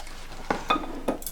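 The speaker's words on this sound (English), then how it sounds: "combine all of these, give a good stir until everything looks nice and homogeneous" Utensil stirring and clinking against a bowl while chicken cannelloni filling ingredients are combined, three short distinct scrapes and clinks spaced apart over quiet kitchen background.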